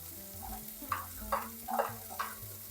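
Onion and garlic frying in a pan for a peas and fish curry, a soft, quiet sizzle with four evenly spaced scraping stirs, heard close with faint background hum.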